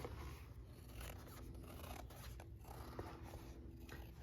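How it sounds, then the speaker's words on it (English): Ginger scissors cutting leather for a custom holster, giving a series of faint, close snips and scraping rasps at an uneven pace, with no talk. "These are Ginger scissors."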